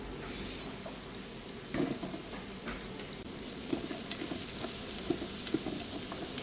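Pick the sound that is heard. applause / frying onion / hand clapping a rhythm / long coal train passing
frying onion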